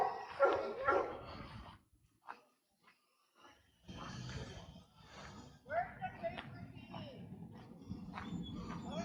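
A dog at a Wisconsin Dells campground barks and yips in short bursts at moderate distance, mixed with people talking and outdoor background noise.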